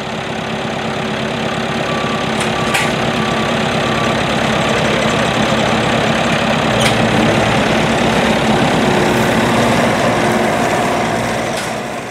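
A 113 PTO horsepower International Farmall 1256 tractor, built 1967–1969, runs steadily while baling wheat straw into 14 by 18 bales in a field, a loud, continuous close engine drone with baler machinery clatter and no talking.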